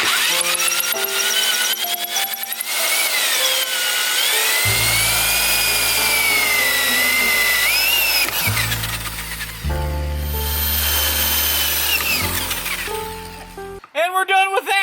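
A power drill bores shifter mounting holes in a K20-swapped Honda Civic, its high whine rising and falling through repeated runs, loud and close, with people talking and other shop noise around it.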